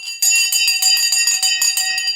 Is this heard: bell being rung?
yes